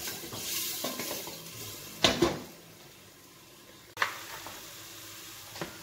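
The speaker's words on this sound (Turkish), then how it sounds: "Etimiz de bir yandan kavruluyor." Meat sautés in a pressure cooker pot for chickpea stew, with a soft steady sizzle broken by a couple of sharp scraping stirs and utensil clinks against the pot, close by and with no talk.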